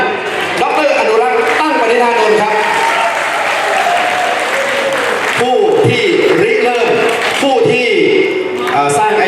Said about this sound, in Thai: ขออนุญาตให้ทุกท่านปรบมือให้กับท่าน